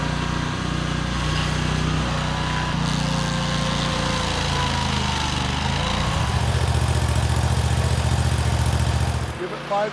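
A stump grinder's engine runs at a rough idle, then climbs to a louder, steady high-RPM drone before cutting out near the end, heard outdoors and close by.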